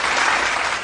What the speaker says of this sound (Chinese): 我们掌声给他吹起